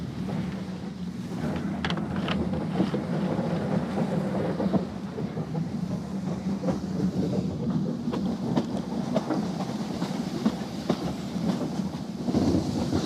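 A steam train runs along a railway line in Britain, a steady rumble of wheels and carriage with faint clickety-clack and wind rush, heard close from a window for a sustained stretch without talk.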